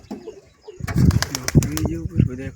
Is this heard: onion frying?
no